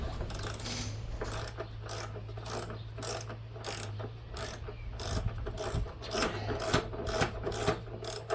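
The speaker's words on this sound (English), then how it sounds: "now we're going to take off the front wheels, and we'll be using the 13mm socket for that." Ratchet wrench with a 13mm socket clicking steadily as it loosens the front wheel nuts on an Alko lawn mower deck, a close, rapid run of mechanical clicks over a low background hum.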